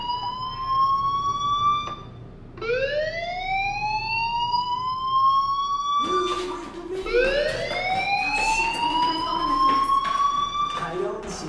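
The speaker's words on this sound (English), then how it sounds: "Hey, do you hear that fire alarm? That means you should be outside." In the video game Life is Strange, a fire alarm wails in rising sweeps that repeat, loud and continuous, with a brief gap before restarting.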